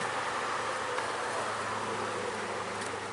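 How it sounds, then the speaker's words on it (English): Insects buzzing steadily at night beside Keller Lake near a boardwalk, forming a continuous, even, moderately quiet drone with no breaks. "Bugs are minimal."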